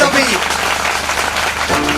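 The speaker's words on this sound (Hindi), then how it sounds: "विश्वास करने वाले ताली बजाते हुए प्रभु को धन्यवाद।" A church congregation claps in thanksgiving during a Hindi-language worship service: dense, continuous applause with a voice rising over it.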